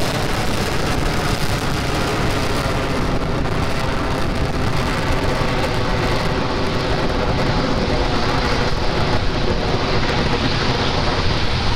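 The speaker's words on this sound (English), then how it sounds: "Ignition. Liftoff." A SpaceX Falcon 9 rocket lifts off carrying the Anasis II satellite, its engines producing a dense, loud, unbroken roar that holds steady throughout.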